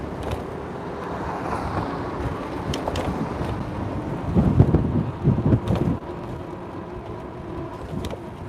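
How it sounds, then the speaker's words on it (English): Wind gusting across a city street in Washington DC, a steady broadband rumble and buffeting against the microphone that swells into stronger gusts midway before settling back to a constant roar. "Whoa, it's windy"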